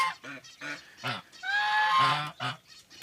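A domestic goose, sitting on its nest in a farmyard, honks repeatedly in short nasal calls, close by, with one longer drawn-out honk in the middle.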